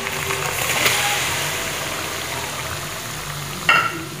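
Ground jaggery being stirred and melted in hot ghee over low heat, a soft continuous sizzle with a couple of scraping stirs and a brief clatter near the end.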